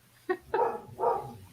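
A dog barks three times in quick succession, short sharp yelps at moderate distance with a faint low hum underneath and no talking.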